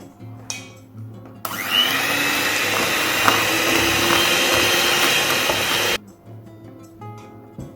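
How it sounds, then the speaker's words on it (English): An electric mixer beats eggs into red velvet cake batter, a loud steady motor whir running about four seconds close by, starting and stopping abruptly amid quiet kitchen background. "And then you're going to beat in 2 eggs, one at a time,"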